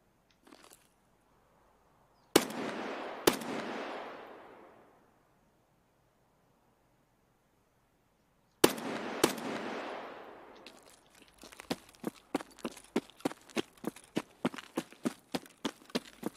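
Gunfire in the Escape from Tarkov shooter game: two pairs of sharp loud shots with long echoing tails, followed by a rapid run of regularly spaced shots near the end.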